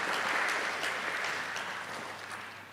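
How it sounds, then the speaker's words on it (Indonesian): Audience applause rings out for a few seconds, dense and steady, slowly tapering off. "Kita beri aplaus Bapak Ibu."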